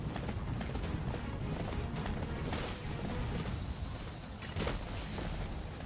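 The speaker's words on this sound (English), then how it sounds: "You're so fucking slow, you dumb horse." Horse galloping in Attack on Titan - Wings of Freedom, a loud continuous rapid clip-clop of hooves with rushing game noise, close and without voices.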